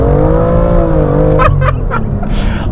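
BMW M2 with a dual-clutch transmission, its engine droning under load and then shifting, followed by a few sharp pops and crackles, loud and close from inside the car.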